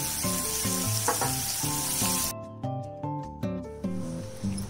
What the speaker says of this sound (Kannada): ಒಂದು ಈರುಳ್ಳಿ ಚಾಪ್ ಮಾಡ್ಕೊಂಡಿದ್ದೀನಿ ಸಣ್ಣಗೆ ಹಾಕೋಬೇಕು ಇದು ಗೋಲ್ಡನ್ ಬ್ರೌನ್ ಬರೋವರೆಗೂ ಇಟ್ಕೋಬೇಕು